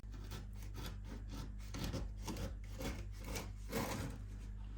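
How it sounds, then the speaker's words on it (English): A knife saws through a freshly baked air fryer flapjack in a silicone mould, producing a steady, close rasping with rhythmic strokes. "So let's give it a slice and see what the flapjack's like."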